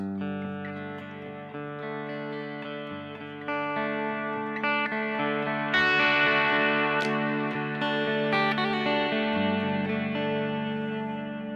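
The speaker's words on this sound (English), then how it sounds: "I got my dirt, I got my tremolo, got my delay and reverb" Distorted electric guitar chords ring out with a pulsing tremolo, trailing delay repeats and a wash of reverb, loud and sustained without any voices.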